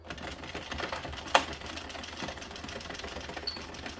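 A hand-cranked knitting machine works Bernat Fluffee yarn with a steady run of quick mechanical clicks and carriage rattles, one sharper clack standing out midway, no voices.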